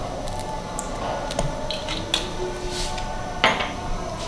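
A utensil mixes cake batter with baking powder and vanilla essence in a bowl, making close, soft wet stirring sounds punctuated by a few light clinks and taps against the dish.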